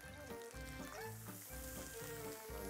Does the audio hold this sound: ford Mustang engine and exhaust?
no